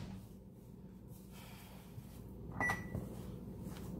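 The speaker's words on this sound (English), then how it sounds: "Somebody leave the time going on the microwave." A microwave oven left with time still on it gives a short, sharp reminder beep, a single bright tone that stands out from quiet kitchen background noise.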